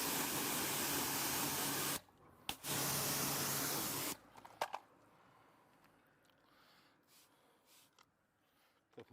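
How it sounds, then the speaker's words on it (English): Two long, loud hissing sprays of cleaning product hit a Volkswagen T6 van, separated by a brief pause and a quick burst, followed by quieter handling noises and a few faint clicks. "Couple more sprays on now as we work round"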